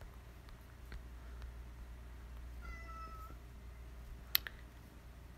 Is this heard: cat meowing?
yes